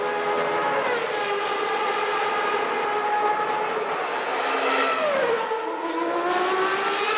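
Nelson Piquet's 1991 Benetton Formula One car screams at close range onboard at the Italian Grand Prix, its high-pitched engine note climbing and dropping sharply through several gear changes.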